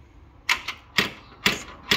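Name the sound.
Riley Brooklands car door latch clicking shut in two stages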